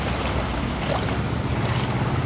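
A four-wheeler ploughs through a road flooded after heavy rain on the Devgad–Jamsande route, a loud continuous rush and swish of churned water close by, with no talk.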